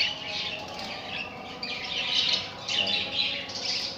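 A grey pet bird squawking in a cage, repeated harsh shrill calls in bursts over a faint background hum, fairly close with no talk.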